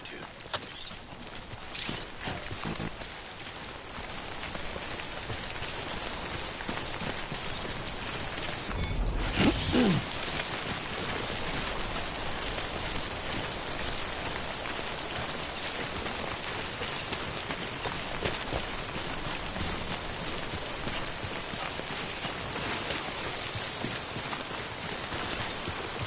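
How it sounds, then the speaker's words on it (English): Steady rain of timefall in the video game Death Stranding, a continuous dense hiss of falling drops with a faint rhythmic clopping underneath and a brief whoosh near the middle. "Don't stay out in the rain any longer than you have to."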